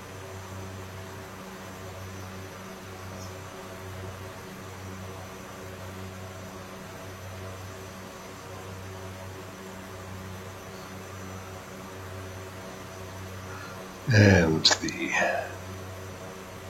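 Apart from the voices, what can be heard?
propeller aircraft engine in cruise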